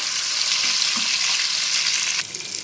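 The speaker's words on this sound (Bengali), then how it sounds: "টমেটোটা একটু নেড়ে নেব তেলের মধ্যে" Chopped tomato stirred in hot oil in a pan for a paneer-in-milk dish, giving a loud, close, steady frying hiss that drops slightly near the end after a brief clack; no voices.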